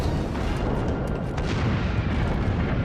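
Cannon fire in the Dragon Quest Heroes video game: a loud, dense barrage of overlapping booms and rumbling blasts that carries on without a break for the whole stretch, with no talk over it.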